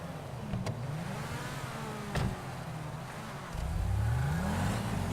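A muscle car engine in a video game drones steadily, then revs up and accelerates with a rising growl near the end.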